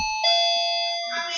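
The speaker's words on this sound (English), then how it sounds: "and that's my doorbell." Home doorbell chiming a two-tone ding-dong, the first bright ring sustaining and then a second tone, clear and moderately loud against near silence.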